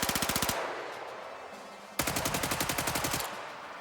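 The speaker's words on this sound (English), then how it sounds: "So the most exciting gun for me to capture is probably the Thompson." Thompson submachine gun recorded for a video game, firing two loud, close bursts of rapid, evenly spaced shots separated by a brief pause, with no voices.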